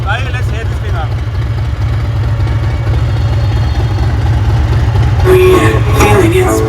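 A superbike engine and exhaust idles with a loud, steady low rumble and rapid pulsing throughout, while a brighter tonal sound joins in near the end.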